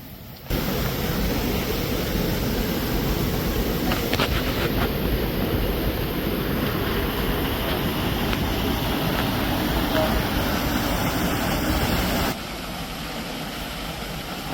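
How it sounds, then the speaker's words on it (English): Rushing water from a waterfall along a hiking trail with wooden bridges in Bulgaria, a steady broadband roar filling the whole clip, loud and close, easing slightly near the end. "On top of one waterfall and going to the next."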